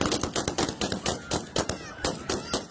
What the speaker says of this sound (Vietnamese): Binh sĩ nổ súng để ngăn cản đám đông đang tuyệt vọng muốn rời khỏi Afghanistan.